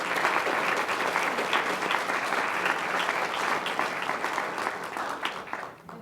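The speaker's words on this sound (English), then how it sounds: "let's give her a round of applause" A room at a school board of education meeting breaks into sustained applause for a high-scoring French horn player, steady dense clapping that holds throughout before tapering off at the very end.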